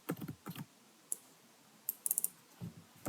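A computer keyboard is typed on in short, sparse clusters of crisp clicks, with a few isolated taps between them, while an Italian residence permit application form is filled in. The clicks are close and quiet against a near-silent background.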